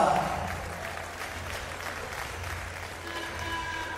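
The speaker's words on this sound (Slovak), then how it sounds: "ďakujeme za potlesk" Applause from an audience at a Banská Bystrica amateur boxing event, between rounds. Steady broadband clapping with a fairly loud start, easing then holding level, with some voices and music tones mixed in.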